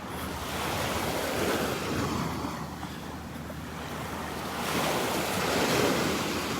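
Ocean surf rolling onto Vanderbilt Beach in North Naples before dawn, a broad steady wash of breaking waves with wind rumble on the microphone, swelling louder toward the end.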